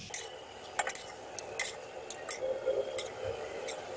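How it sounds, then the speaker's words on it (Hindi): Fried chicken nuggets being dished out onto a plate, light clinks and taps of utensils against dishes, a few scattered soft knocks, close and quiet, no talking. "अब हम इसको डिश आउट करते हैं।"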